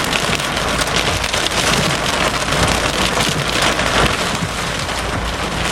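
A Florida thunderstorm in July 2007 with heavy rain pouring steadily and loudly, and a close lightning strike whose thunder rumbles through the downpour, with no voices.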